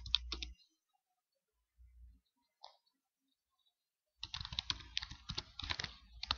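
Close computer keyboard typing: a short burst at the start, a few isolated clicks, then a quick run of keystrokes for the last two seconds in an otherwise quiet room.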